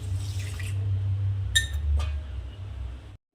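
Water is poured from a small bowl for sugar syrup in a short, close trickle. A couple of bright clinks of the bowl follow over a low steady hum.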